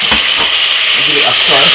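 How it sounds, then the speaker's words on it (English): String beans are stirred into melted butter in a frying pan, producing a loud, close, hissing sizzle that holds steady for the whole short moment. "melt a little bit of butter inside of the front pan like this. And then put back the string beans straight inside of it like this."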